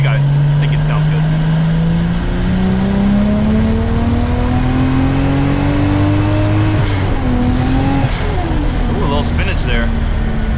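From inside a Toyota JZX100 with a 1JZ-GTE engine, the motor pulls steadily through a long gear, pitch climbing, then shifts and revs again, loud and close with road noise beneath.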